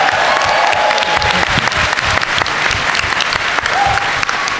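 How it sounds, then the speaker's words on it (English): Loud, close audience applause at a Power Morphicon convention panel, dense steady clapping with a few voices and cheers mixed in throughout. "I'm going to have a special round of applause for Ryan Parrott."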